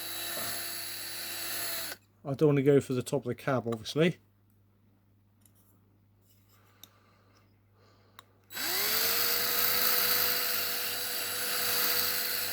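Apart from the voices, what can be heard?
drilling out a Matchbox scaffolding truck toy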